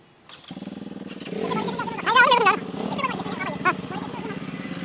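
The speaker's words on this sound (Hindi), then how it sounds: "अब मैं चाहता हूँ कि सारी बाइक्स ऑन हो" Several modified motorcycles idle with a steady throbbing putter, then rev sharply in short bursts, with voices shouting over the noise.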